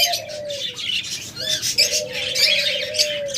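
Caged pet birds such as lovebirds, budgerigars, cockatiels and doves chirp and call close by, with a sustained whistling note and busy overlapping twitters throughout.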